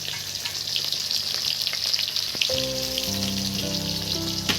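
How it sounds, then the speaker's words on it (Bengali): Steady sizzling of rohu fish frying in hot oil, a dense crackling hiss that continues throughout without any talking. "বন্ধুরা চলছে মাছ ভাজা, সুন্দর কালার ধরেছে"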